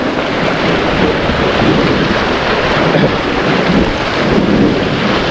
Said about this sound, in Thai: ลมก็ประมาณนี้เลย